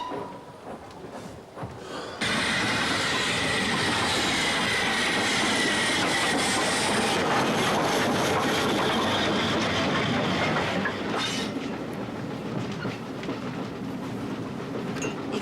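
Passenger train running on rails, a loud, steady rumble with rattling clatter that starts abruptly and holds for the rest of the stretch, close and continuous, with no voices over it.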